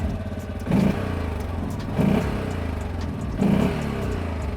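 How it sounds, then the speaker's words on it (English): Loncin XWolf 700 ATV single-cylinder engine with standard muffler idling, then blipped three times in short, evenly spaced revs that rise and fall back to a steady thump, heard close up. "Like a serious one-cylinder engine."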